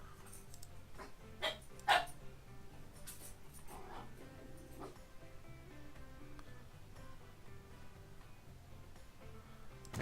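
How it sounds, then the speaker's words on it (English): A pet dog barks a few short, sharp times in a room, the clear yaps standing out at moderate loudness over a steady low background hum. "Sorry about that. That was my dog."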